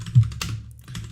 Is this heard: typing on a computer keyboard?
yes